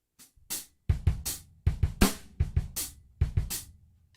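A drum kit groove played on a live lesson, snare drag rudiments with grace-note flams over bass drum hits, crisp cymbal splashes and fairly quiet, close, with uneven syncopated rhythm.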